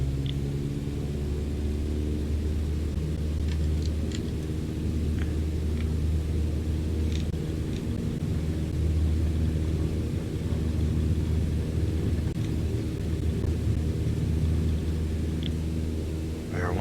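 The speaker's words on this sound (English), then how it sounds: "We are once again taking off to the south." A simulated airplane in Microsoft Flight Simulator taking off from a runway, a steady, moderately loud engine drone and rumble building under broadband noise, with a few faint clicks and no talking.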